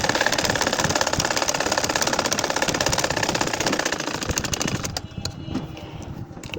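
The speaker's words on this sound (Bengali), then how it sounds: "এই যে দেখো আবারও বাকি আর হাফ আমি সেলাই করে নিচ্ছি" A sewing machine stitching a nakshi kantha quilt runs with a steady, fast mechanical rattle for about five seconds, then slows and fades to a quieter hum.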